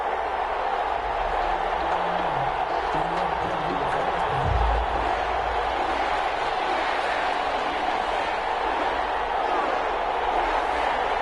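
Steady stadium crowd roar from an EA Sports NFL video game matchup between the Green Bay Packers and New Orleans Saints, a constant wash of distant cheering with a low voice speaking underneath.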